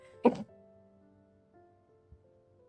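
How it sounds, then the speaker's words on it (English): Zayne, a video game character, gives a gentle short cough, a single soft close throat sound followed by quiet background tones and a faint thump. "After Zayne gently coughs, he moves in front of me and blocks my view of the TV."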